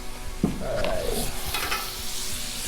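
A big glob of butter sizzling on a hot Blackstone griddle, a steady close hiss with a few scraping and tapping sounds over it.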